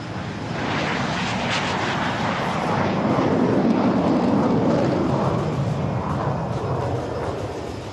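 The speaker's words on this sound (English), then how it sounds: "The first 3 set, ladies and gentlemen, taking off right in front of you." Aerobatic display team aircraft taking off at an air show in Bengaluru: a loud, sustained jet engine roar that swells and holds as the first three aircraft depart nearby.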